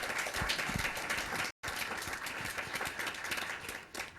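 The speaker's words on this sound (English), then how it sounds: "give a round of applause to our students and our staff today" Sustained crowd applause at a school board meeting, honoring students and staff, dense and steady clapping throughout with a brief dropout in the middle.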